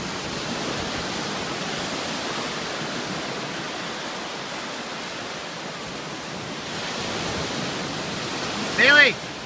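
Ocean waves at Miami beach roll in as a continuous broad rush of surf, steady and fairly loud, with a short burst of a voice near the end.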